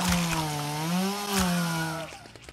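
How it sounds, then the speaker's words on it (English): A chainsaw in the video game ZedFest runs with a loud, steady revving drone that rises and dips in pitch before cutting off abruptly near the end, leaving brief clattering hits. "this chainsaw is like wonky as hell, but it do be powerful"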